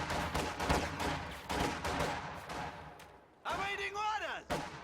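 Infantry squads fire in a Company of Heroes real-time strategy match, with bursts of rifle and machine-gun fire and sharp impact cracks layered in busy game audio, and a whistling, descending tone near the end.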